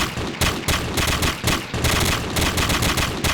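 Police gunfire in a zombie infection simulator game, loud rapid bursts of repeated shots in quick rhythmic volleys, close and continuous with only brief gaps.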